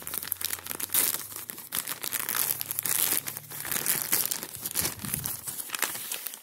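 A wrestling tee package is opened up close with loud paper crinkling and tearing. Dense rustling and crackling bursts run continuously for over six seconds with no talk.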